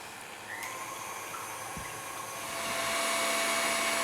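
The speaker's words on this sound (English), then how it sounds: "I'm going to start whisking." An electric mixer whisks egg whites for meringue in a kitchen, a steady high whirring hiss that grows a little louder partway through, with no talking.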